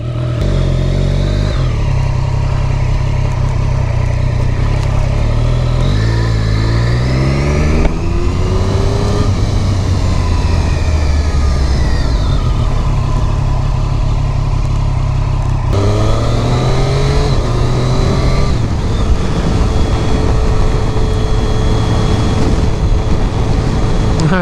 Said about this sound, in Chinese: 这算是我第一次骑这台在路上